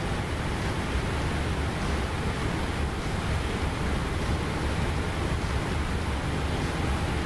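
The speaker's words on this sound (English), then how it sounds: "It's very windy." Strong wind roars steadily around the cockpit of a FlightFactor 777 airliner in the X-Plane 12 flight simulator, a constant broadband rush with no talk.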